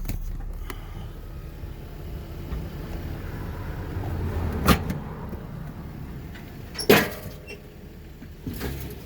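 A 2002 Lexus GS300 rolls down off a trailer, giving a low rumble with a few sharp metallic clunks and bangs as the wheels come down the ramps, fairly faint and with no talking.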